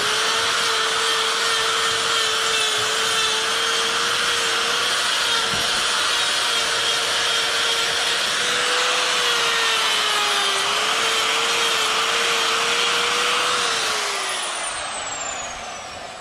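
A chainsaw carves wood in one long, steady, loud roaring cut with a constant engine drone that holds throughout, then winds down and fades at the end. No one talks.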